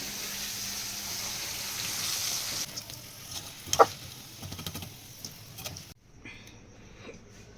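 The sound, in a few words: bitter gourd pieces sizzling while frying in oil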